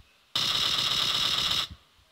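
Sustained burst of automatic gunfire in the mobile game PUBG Mobile, one continuous rapid volley of about a second and a half that starts and stops abruptly, loud and close, with no speech.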